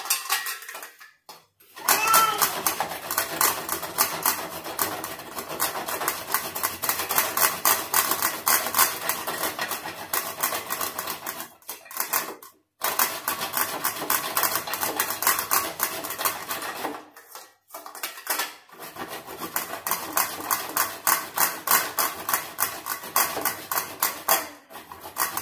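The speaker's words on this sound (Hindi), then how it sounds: "और ये है नारियल सूखा हुआ, तो इसको भी हम ग्रेट कर लेंगे फटाफट से" Dried coconut scraped against a grater in a home kitchen makes a fast, continuous rasping stroke after stroke, loud and close, broken by a few short pauses.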